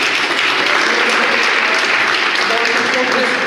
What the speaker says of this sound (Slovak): Potlesk pre vás, mladí pre vás tiež.